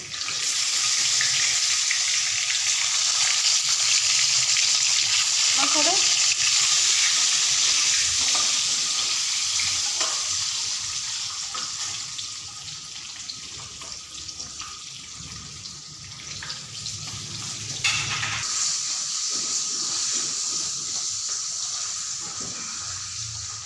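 Eggs fry in a pan seasoned with turmeric and red chili powder, a steady broad sizzle running loud throughout with occasional stirring scrapes, fading slightly midway before picking back up.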